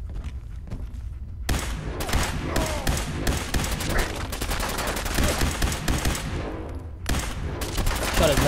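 Gunfire in the video game Fallout 4, with sustained rapid bursts of shots stopping briefly and resuming, loud and dense over most of the stretch, with faint footsteps early on and no clear talking.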